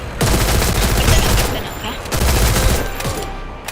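Rapid automatic gunfire fills a shooting video game, dense and loud, rattling almost continuously for several seconds with brief dips in intensity.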